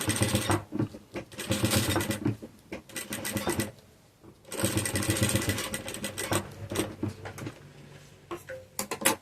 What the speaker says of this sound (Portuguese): eu estou usando um calcador de zíper. Porque daí eu consigo fazer essa minha costura reta